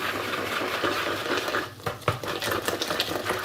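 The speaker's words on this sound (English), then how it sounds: "we're going to give it a good whisk" Potato pancake batter of flour and parsley whisked in a bowl, a fast continuous rattling tick of the whisk against the sides, close and alone.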